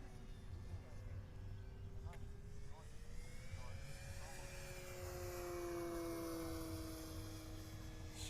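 A Gee Bee Model Y radio-controlled model airplane makes a full-throttle pass, a faint, thin whine that rises and shifts in pitch as it goes by at a distance, with steady wind and background noise.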